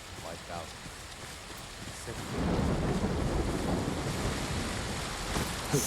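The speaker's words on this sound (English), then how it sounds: "Sounds like the rain is coming." A steady rainstorm with rolling thunder in the Ghost of Tsushima video game, swelling louder midway and continuing as a dense, close wash of falling rain.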